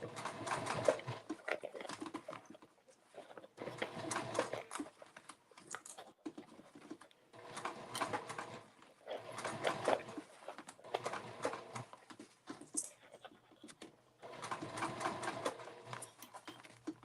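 A sewing machine stitches binding onto a circle bag in repeated bursts of a few seconds each, a fast mechanical patter with short pauses between runs, close and fairly quiet.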